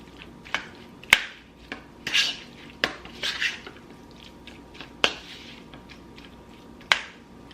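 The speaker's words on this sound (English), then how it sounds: "Just gonna stir this up once again" A spoon clinks and scrapes against a bowl while stirring a sauce mixture with black pepper and garlic powder, giving a series of sharp, close taps at irregular intervals.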